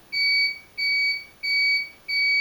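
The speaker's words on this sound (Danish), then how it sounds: "Nu er der noget, der bipper." Electronic beeping in a steady repeating pattern: four evenly spaced high-pitched two-tone beeps, clear and fairly loud, with nothing else in the background.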